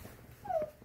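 A car-sick puppy gives a brief, thin whimper, a single high plaintive cry rising over low background rumble and quiet room noise.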